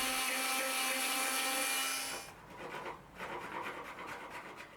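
A wooden composite mast joint has its groove trimmed by hand, a close, dry rasping scrape for about two seconds, followed by quieter irregular rubbing strokes.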